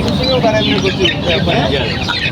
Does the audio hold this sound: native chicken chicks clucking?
yes